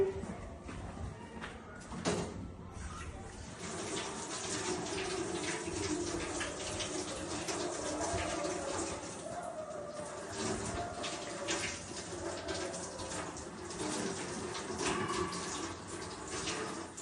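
Tap water runs steadily and close by while something is washed at a sink, a continuous splashing flow with a brief clatter near the start.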